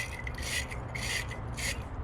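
A sanding sponge scrubs buildup off a car battery terminal on a 2014 Toyota Corolla, making three quick rhythmic gritty rasping strokes, close up with no talking.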